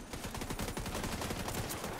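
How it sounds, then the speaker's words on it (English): Rapid gunfire in The Division 2 video game, a quick rattling burst of shots at low level, steady across two seconds with no talk. "let me shoot that"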